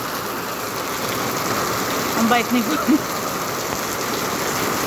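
Dense, steady downpour of heavy rain in the Philippines hissing continuously at night, with a person speaking briefly in Filipino over the roar partway through.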